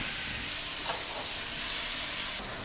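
Bacon sizzling in a wok for fried rice, a continuous bright, hissing fry at close range with a brief stirring scrape in the middle, steady and uninterrupted with no talk.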